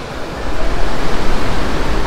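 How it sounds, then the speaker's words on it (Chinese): Lower Falls in the Grand Canyon of the Yellowstone, heard from the top of the falls: a steady, loud, broadband roar of falling water that fills the whole clip without a break. "哇，这边是到瀑布的顶端"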